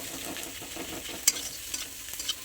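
Egg pasta with tomato and onion is stirred in a frying pan, a continuous soft sizzle broken by a few light spoon scrapes and clinks, close and steady throughout.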